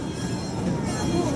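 A Tatra T-3 tram arriving during a tram parade, a low rumbling rolling noise with faint rail squeal, close and steady, with people talking over it.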